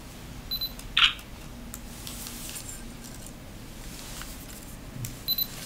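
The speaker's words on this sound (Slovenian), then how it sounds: "da bom s temle Nikonom P80 simbolično posnel fotografijo" A Nikon P80 compact camera snaps a photo with a quick electronic beep and a crisp shutter click, then a few faint beeps follow in a quiet room.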